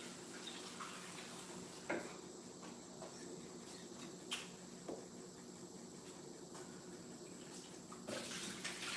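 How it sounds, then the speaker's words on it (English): Water runs steadily to rinse something off, a faint continuous hiss with a few soft splashes and knocks, while a high insect-like chirp sits faintly in the background. "I'm gonna go rinse this off."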